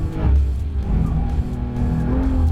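A manual 2018 Porsche 911 GT3 Touring engine is held in fourth gear at speed on a race track, a loud, close, sustained engine drone with a steady pitch and no talking.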